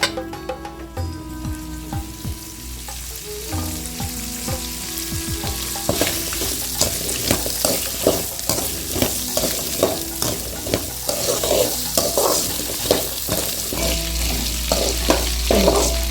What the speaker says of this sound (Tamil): நல்லா வெங்காயத்தை வணக்கிங்க.